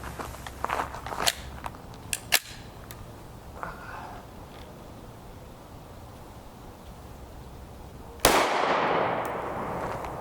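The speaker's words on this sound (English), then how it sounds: "so we're going to try another shot and see if we can get closer to the center there" A 5.7x28mm round with a 36-grain copper solid bullet is fired into ballistic gel, giving one sharp, loud report near the end that decays into a rushing tail, after scattered small clicks and handling noises.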